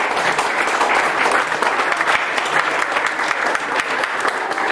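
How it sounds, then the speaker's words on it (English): An audience at a presentation gives a sustained round of applause, thick and continuous clapping from a large group without speech over it. "I think you need a big round of applause"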